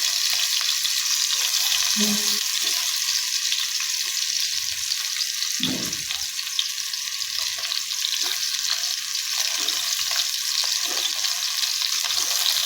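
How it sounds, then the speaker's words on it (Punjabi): Potatoes and onions frying in smoking-hot oil in a pan for a stuffed eggplant dish, giving a steady, loud sizzle throughout with a few soft stirring knocks and no voices. "ਲੋ ਜੀ ਤੇਲ ਗਰਮ ਹੋ ਗਿਆ ਧੂਆ ਨਿਕਲ ਰਿਹਾ ਤੇ ਸਭ ਤੋਂ ਪਹਿਲਾਂ ਆਪਾਂ ਦੇ ਵਿੱਚ ਆਲੂ ਤੇ ਪਿਆਜ਼ ਰੱਖਦੇ ਆ"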